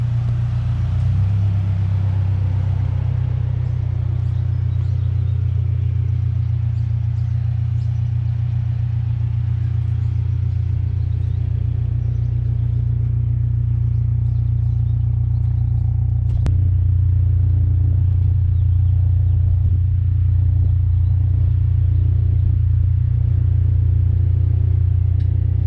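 A 2022 Subaru WRX fitted with a Remark muffler idles with a deep, steady exhaust rumble that shifts to a lower, heavier drone partway through, loud and close with no talking.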